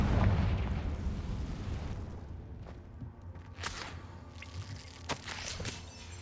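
A Confringo explosion spell goes off in Hogwarts Legacy with a loud rumbling blast that fades into debris, followed by a few scattered sharp cracks and pops.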